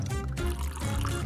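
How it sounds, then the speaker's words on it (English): Melted gummy bear liquid pours into a glass in a brief, soft trickle, close by, with a tonal background sound running underneath. "Pour the gummy liquid into a glass."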